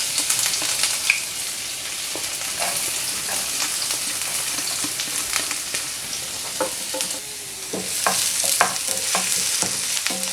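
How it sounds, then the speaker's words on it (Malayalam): Ginger and garlic sizzle in hot oil in a pan for matar paneer bhurji, a steady close crackle broken by scattered scraping clicks of stirring. "ഇപ്പോൾ എണ്ണ ചൂടായി വന്നിട്ടുണ്ട്. അതിലേക്ക് ഇഞ്ചിയും വെളുത്തുള്ളിയും ഇട്ട് കൊടുക്കാം."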